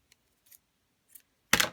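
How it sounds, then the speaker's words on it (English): Scissors cutting a piece of Pure Poppy baker's twine: a few faint small snips, then one sharp, close crunching cut near the end. "I just cut off a piece and loop it through the holes over the top."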